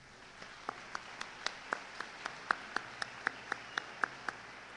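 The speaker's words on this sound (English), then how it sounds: "Let's give them a round of applause" Slow, evenly spaced handclaps at a 2015 commencement ceremony, about fifteen sharp, distinct claps over a quiet room, thin and sparse rather than a full crowd ovation.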